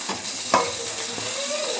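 Tempering spices crackle and sizzle in hot oil for dhokla, with a sharp pop early on followed by a steady, close hiss.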